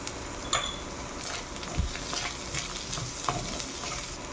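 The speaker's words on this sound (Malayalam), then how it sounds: "കുക്ക് ചെയ്ത ചിക്കൻ ആയതുകൊണ്ട് കുറച്ചൊന്ന് വഴറ്റിയെടുത്താൽ മതി" Cooked chicken being sautéed in a pan for a chicken and egg bhurji sizzles steadily up close, with repeated scraping stir strokes and light knocks of a spoon against the pan.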